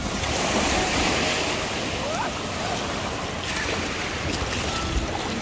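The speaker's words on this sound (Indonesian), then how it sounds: "Ombaknya ngeri." Ocean surf at Balekambang beach on the south coast of Malang, a steady loud wash of breaking waves with wind noise on the microphone throughout.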